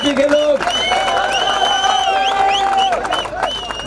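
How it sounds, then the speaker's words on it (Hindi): Political rally crowd applauding and cheering as a candidate is welcomed, a steady wash of clapping and crowd noise under a loud amplified voice talking over it throughout. "जरा इसके लिए जोरदार तालियों से स्वागत करो जीतू जिराती का"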